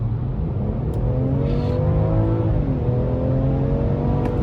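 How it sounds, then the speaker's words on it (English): A 2021 BMW 545e xDrive accelerating on a road in Norway, heard from inside as a loud, steady engine drone with a rising pitch as it gains speed, no talking. "so I can give some gas, and you will see how the engine sounds when I give it"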